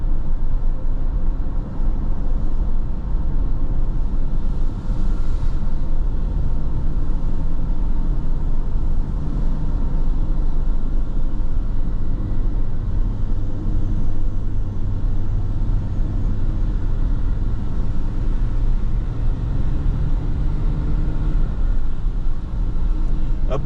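Steady, loud road traffic rumble in Tegucigalpa, Honduras, with cars and heavier vehicles passing continuously, heard from inside a moving car with constant engine and tyre noise.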